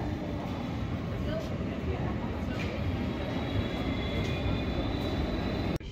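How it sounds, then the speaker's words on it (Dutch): Train interior at Amersfoort station in the Netherlands, at a transfer to the train towards Enschede: a steady, loud broadband rumble of the rail carriage runs throughout, with people talking over it. "hier overstappen op de trein richting Enschede"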